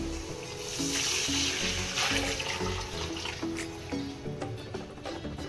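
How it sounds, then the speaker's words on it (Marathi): Tamarind water poured into a pan of hot oil, a soft continuous trickle and splash that runs steadily throughout, fairly faint over a low background hum. "तर आपण यामध्ये आता पाणी टाकूया, जे आपण मगाशी चिंचेचं पाणी करून घेतलं होतं ते कोळ टाकायचं आहे।"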